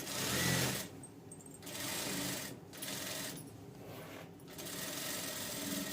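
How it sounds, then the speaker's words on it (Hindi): A sewing machine runs in several fast, whirring bursts while stitching a princess-cut blouse, with short pauses between the runs, close and steady in level. "तो ऐसी सिलाई हम दूसरे साइड से भी लगाएंगे।"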